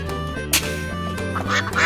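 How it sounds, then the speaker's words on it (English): Duck quacks ring out in a short burst of a few calls over steady background music, fairly loud and close, from a children's toy-animal tub scene. "Yellow duck."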